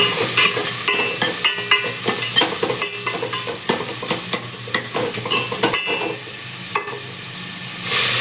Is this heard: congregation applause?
no